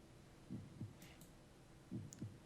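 Heartbeat in the horror game Garry's Mod: Undying, two faint double-thump pairs, low and muffled, with a brief faint high tone between them and no talk.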